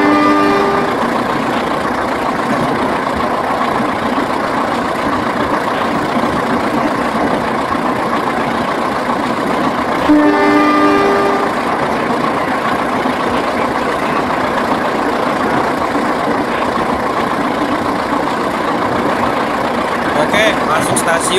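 A locomotive in the Trainz Simulator game rumbles steadily at speed, a loud, constant engine drone with a brief clanking rail noise midway, while someone talks over it throughout.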